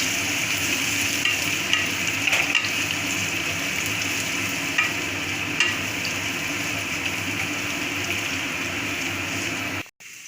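Garlic and ginger fry in a pan for a lemon pepper chicken dish, giving a continuous close sizzle with light crackles and occasional stirring, which cuts off abruptly at the end.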